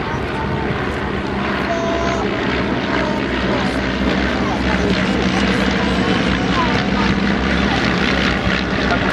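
Loud, continuous droning of propeller aircraft engines at an airshow, a throbbing roar that stays steady and close throughout as the planes pass overhead.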